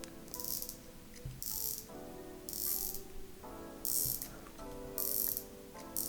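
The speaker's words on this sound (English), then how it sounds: "One of the things that I noticed immediately when I picked up the fake and on the genuine is the way the bezel sounds" A genuine Rolex Sea Dweller's bezel is turned in several bursts of fine, rapid ratcheting clicks, quiet and close, with brief pauses between the turns.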